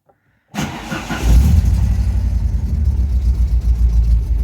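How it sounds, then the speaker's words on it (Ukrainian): An Opel C20NE engine starts abruptly and then runs loud and close, with a rough, uneven note that surges and sags in waves as it misfires. No one speaks. "От зараз вона якби вирівнюється, наче працює, а потім опять троїть і так напливами"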